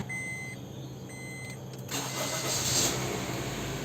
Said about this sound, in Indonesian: sekarang saya nyalakan dulu mobilnya sebentar.